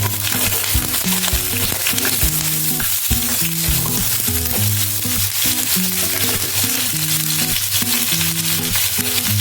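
Pumpkin, eggplant and green chilli fry in hot oil with black cumin seeds for a Dhaka-style prawn dish, giving a loud, continuous sizzle close up, with scraping and stirring clatter throughout.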